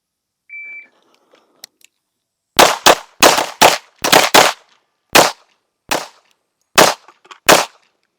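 Sharp shots from two 1911 pistols, a World War II spec .45 and a modern 9mm race gun, fired in a drawing drill: a short beep, then nine close, loud cracks in uneven clusters with quiet gaps between.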